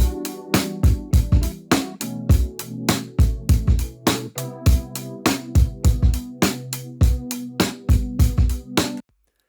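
A punchy drum loop with steady kick and snare hits plays alongside a sustained keyboard chord loop, loud and continuous, with no talking, ending abruptly.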